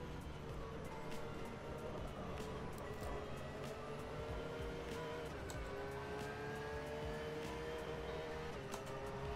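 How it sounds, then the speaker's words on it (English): An AMG race car in rFactor 2 sweeps past amid the steady engine drone of a Porsche 911 GT3 at Sebring, with rising and falling whine tones; loud, continuous sim-racing engine noise without speech. "There goes the AMG."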